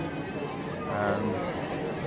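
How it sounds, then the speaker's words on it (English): Dense crowd chatter from a large gathering at Magic Kingdom at night, an overlapping babble of many voices with no single speaker standing out. "I'm stood in the middle of a large crowd"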